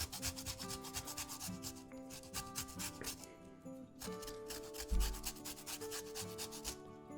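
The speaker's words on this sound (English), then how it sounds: "And just a little zest of lime." Lime being zested over a Mexican pan pizza topped with chorizo, cilantro and green sauce, giving a steady close scraping rasp in repeated strokes, with a louder bump near the end and no talking.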